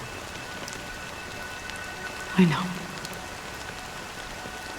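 Steady rain pattering across a surface in the game Honkai Star Rail, a soft continuous hiss broken by one brief spoken line in the middle.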